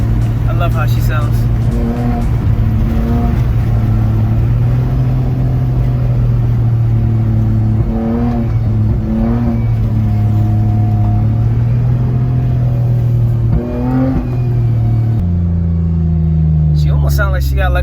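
Car engine revving steadily and loudly up close, with a droning note that rises and falls and an added whine like a small supercharger, heard alone for most of the stretch.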